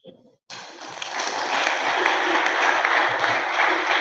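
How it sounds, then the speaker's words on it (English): A conference audience applauds its CEO at a business breakfast event. After a brief pause, dense clapping swells up and holds steady and loud, filling the room without talk over it. "We can applaud our CEO better than that."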